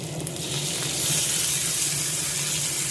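Okra sizzles steadily in a hot pan with oil while it is stirred, a continuous close frying hiss with faint scraping.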